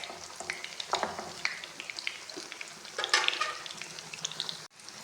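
Chicken shami kababs fry in a pan with a steady close sizzle, broken now and then by soft scrapes and clinks as they are turned.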